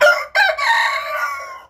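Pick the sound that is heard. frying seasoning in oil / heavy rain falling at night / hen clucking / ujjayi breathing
hen clucking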